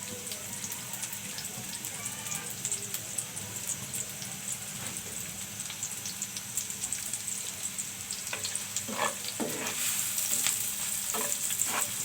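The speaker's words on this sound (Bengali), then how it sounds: "আমি এখন পেঁয়াজটা তেলে একটু লাল করে নেব।" Onions fry in oil in a pan with a steady crackling sizzle up close. Spatula scrapes and stirring knocks come toward the end, with no talk.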